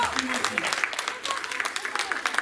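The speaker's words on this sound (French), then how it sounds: "vous pouvez applaudir tout le monde parce qu'ils ont vraiment assuré" Audience applause at a game festival, a short burst of steady clapping with voices mixed in throughout.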